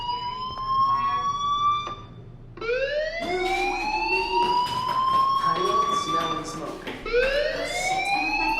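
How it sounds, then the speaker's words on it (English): A school fire alarm in the video game Life Is Strange wails in loud rising and falling siren sweeps that restart several times after brief pauses, sounding alone and fairly close. "Hey, do you hear that fire alarm?"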